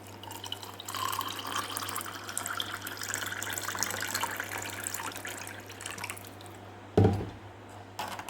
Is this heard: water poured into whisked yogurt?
yes